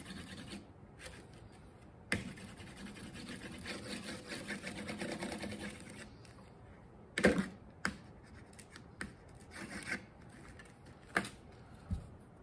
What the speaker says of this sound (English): Just rub it back and forth, and that's gonna shine it up really nice